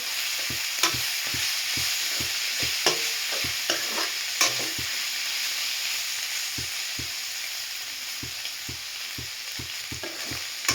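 Turmeric is stirred into a mixture frying in a pan, a steady loud sizzle alone with regular sharp scrapes and knocks of the spoon against the pan every half second or so.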